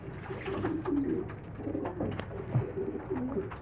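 Pigeons cooing close by in repeated low, throaty rolling calls, steady over a soft rustling background with no talk.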